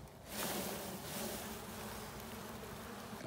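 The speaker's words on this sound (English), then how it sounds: "and shake some bees in it." A dense swarm of honey bees shaken from a hive into a basket, buzzing steadily and loudly up close, a continuous hum with no voices.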